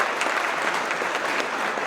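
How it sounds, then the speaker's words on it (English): Office staff of a trucking company applauding at a monthly celebration: a dense, even round of clapping from a group indoors, steady and moderately loud throughout. "So let's give ourselves a round of applause for that."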